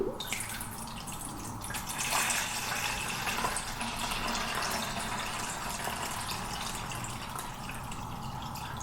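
Water streams steadily into a pot, one litre filled for a Trangia spirit burner, a continuous splashing pour with a faint trickle underneath, fairly quiet and uninterrupted.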